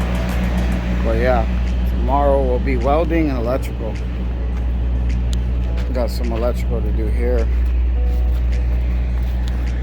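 A refrigerated trailer's reefer unit drones steadily nearby as a loud, constant low hum and rumble, while someone talks over it.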